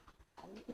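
A homing pigeon gives a soft, faint coo, a short low warbling call heard close by with a couple of quiet throaty notes and no talking.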